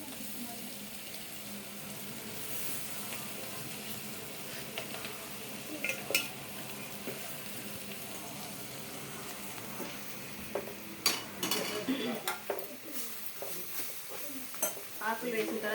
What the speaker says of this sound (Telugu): పసుపు కొంచెం గోలిన తర్వాత ఈ తోటకూర కట్ చేసి పెట్టుకున్న ఆకులు వేయాలి.